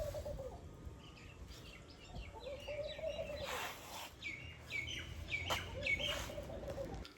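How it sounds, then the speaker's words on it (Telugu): Birds chirp and call among the stone walls of Gandikota fort, a series of bright tweets and whistles rising over a low ambient rumble, some near and some farther off, with no talking. "విన్నారు కదా పక్షుల కిలకిలలు, ఆ విచిత్ర శబ్దాలు."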